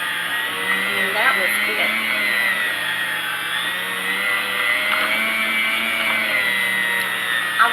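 A steady electric meat slicer whirs continuously while cutting ham, its motor drone running throughout with small scraping accents, as a person speaks briefly nearby.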